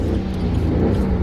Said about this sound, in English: Let me just turn on the car and let me just see how good it sounds.